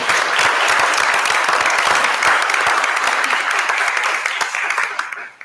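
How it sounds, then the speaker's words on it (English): Steady audience applause fills a board of education meeting room, dense clapping holding evenly for about five seconds before tapering off at the end. "then I'll make another round of applause"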